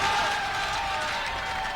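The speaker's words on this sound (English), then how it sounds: "The applause of the crowd." Roadside crowd at a Giro d'Italia time trial applauding and cheering steadily as rider Tonkov rolls out of the start house, a dense continuous wash of clapping with a faint tonal whine over it.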